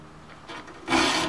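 A file rasps across the teeth of a hand saw to sharpen them. A few soft strokes are followed by one louder, closer scrape, with no voices.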